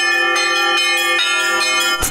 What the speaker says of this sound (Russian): Колокольный перезвон раздается над Ульяновским селом Арское